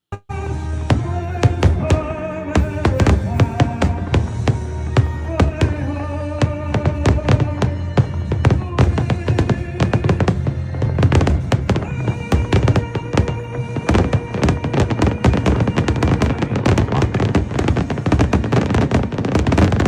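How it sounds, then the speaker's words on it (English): Fireworks display on the night of a Washington, DC victory celebration, a dense continuous barrage of loud booms, crackles and sharp pops layered over one another without pause. "this is President Trump watching the fireworks last night."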